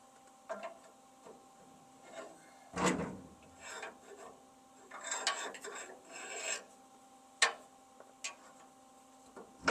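Hand filing notches into steel pieces for a heavy-duty tow hitch on an F600 truck, heard as scattered short rasping strokes, some louder and closer than others, with faint ticking between them and no talk.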